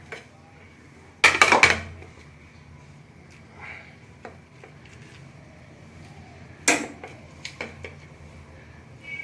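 Fish pieces go into a cooking pan for an Assamese fish curry with gourd, making two sharp, close clattering bursts several seconds apart over a quiet background.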